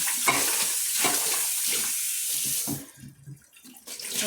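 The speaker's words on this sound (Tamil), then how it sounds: "அந்த கல் கழுவுறாரு பாரு" Running water splashes and hisses steadily as a wet grinder's stone is scrubbed under a tap after grinding idli dosa batter, with small knocks and scraping beneath, then the flow eases.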